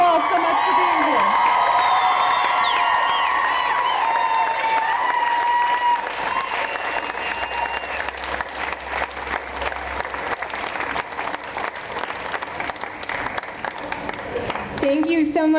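A rally crowd at Slutwalk Denver applauds and cheers loudly for several seconds, with whoops over the clapping. The applause thins out toward the end.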